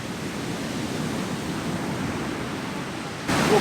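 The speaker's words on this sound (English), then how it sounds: "the ocean turns out is loud" Loud ocean surf on a beach, a steady broadband roar that swells louder near the end, with no talk over it.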